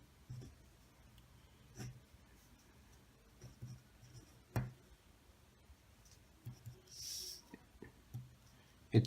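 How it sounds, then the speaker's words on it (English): Pen writing numbers of a continuous random variable equation by hand on paper, faint scratchy strokes with scattered soft taps and clicks, quiet and close with no talking. "When I write the numbers in the equation"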